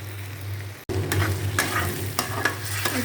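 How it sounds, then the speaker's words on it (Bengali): Potatoes frying in hot oil with cumin seeds and a bay leaf, a steady close sizzle broken by a brief cut near the start, then scraping stirs recurring every half second or so; no one speaks. "একটু জিরে ফোড়ন আর তেজপাতা দিয়ে তারপরে আলুগুলো ভেজে নিচ্ছি।"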